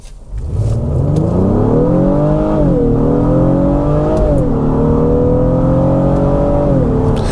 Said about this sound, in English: That VTEC just kicked in